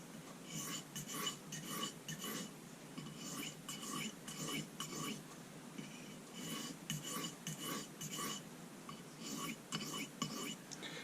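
Steel knife edge stroked across a soft Arkansas sharpening stone with light pressure, a steady run of soft, close rasping swipes repeating every second or so, quiet and unbroken by talk.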